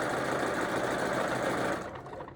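A sewing machine runs a fast, steady stitching burr while sewing a pillow seam, close and continuous, then slows and stops near the end.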